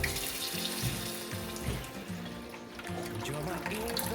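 Water gushes steadily from a bathroom vanity faucet in a DIY tiny home as the lines are purged, a continuous splashing rush into the sink with music playing underneath.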